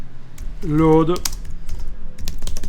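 Someone types on a computer keyboard, with quick clicking keystrokes scattered across a few seconds and a brief voiced sound partway through.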